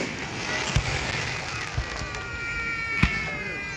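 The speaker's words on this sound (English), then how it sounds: "Disney firework dupe" July 4th fireworks going off at a distance, a few sharp pops and bangs spaced across a steady crowd murmur, with faint voices in the background.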